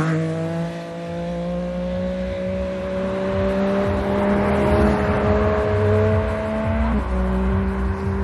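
A Vauxhall Corsa revs hard and accelerates at a car meet, its engine a loud, steady rising drone with a gear change near the end, heard continuously without talk.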